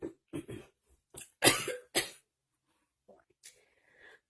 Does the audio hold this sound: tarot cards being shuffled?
no